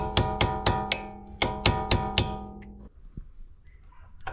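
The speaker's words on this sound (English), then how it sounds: "As you can see, it's moving as I chisel it" Hammer blows on a chisel prying out an old engine mount on a Honda Civic EG, about nine sharp metallic strikes in an irregular rhythm, close and loud, followed by a quieter stretch with a single faint knock.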